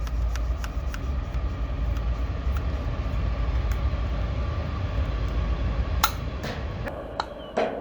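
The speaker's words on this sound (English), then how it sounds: "Here comes that train." A train rumbles past steadily with a low continuous roar and rhythmic clicking of wheels on track, close and loud throughout.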